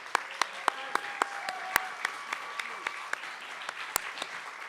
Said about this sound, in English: Once more, the round of applause for everyone here at CMC.